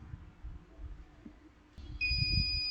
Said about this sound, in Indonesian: terdeteksi gas dan buzzernya on